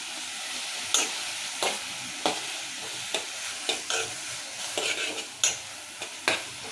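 Chopped tomatoes and green chillies fry in a pan with a steady sizzle, while a spoon stirs them in a dozen or so regular scraping strokes, close up and with no talking.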